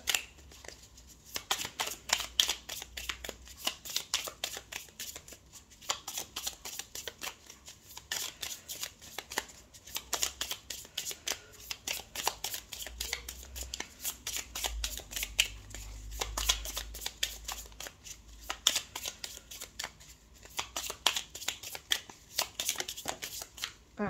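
A tarot deck shuffled continuously for a Virgo reading: dense, rapid, steady riffling and flicking of cards up close, quiet overall, with no one speaking.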